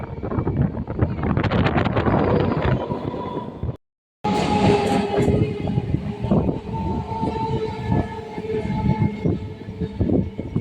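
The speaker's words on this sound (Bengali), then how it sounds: "ট্রেন এখন চুচুড়া স্টেশন ছেড়ে বেরিয়ে যাচ্ছে" A train pulls out of Chinsurah station toward Hooghly, rumbling and clattering along the rails, loud and close, with a brief dropout partway through and wind buffeting the microphone.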